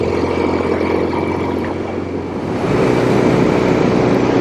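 A 1967 Norton P-11 desert racer motorcycle with an Atlas 750 engine riding on the road, a steady droning engine note that swells louder partway through, close and continuous.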